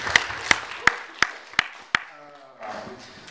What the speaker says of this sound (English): Yes, applause, come on.